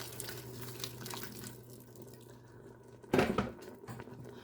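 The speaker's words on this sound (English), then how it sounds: "I am going to pour some water in here. This is boiling water from the kettle." Boiling water poured from a kettle into a pan of mince, a brief splashy gush rising over a steady kitchen background hum.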